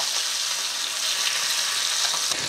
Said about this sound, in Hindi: इसलिए सेफ्टी के लिए दोनों साइड थोड़ा थोड़ा इसे पकाते रहो पलट पलट के।